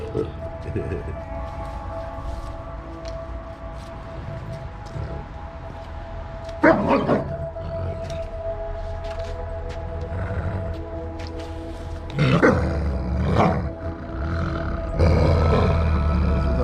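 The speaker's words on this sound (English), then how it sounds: "Canine communication. Toki asking Grandpa Kurgan if he can have some of that, and Kurgan's telling him no." Dogs in a pack growl and grunt over a deer carcass, low rumbling growls with a few sharper bursts of snarling, close by over a steady outdoor background.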